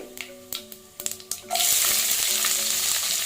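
Mustard seeds pop and crackle in hot oil with spices, then chopped onions hit the pan and a loud, steady sizzle takes over, close and continuous without talk.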